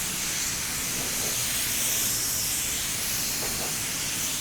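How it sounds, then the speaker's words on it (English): A spray gun applying clear coat at 2 bar pressure hisses continuously at a steady, even level, an unbroken high airy rush with no pauses. "And I'm spraying at 2 bar pressure."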